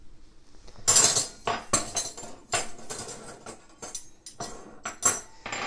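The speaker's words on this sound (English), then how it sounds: "take your silverware and make eighth notes" Silverware tapped and clinked together in a steady eighth-note rhythm, bright metallic clicks repeating closely and evenly, loud and alone with no talk.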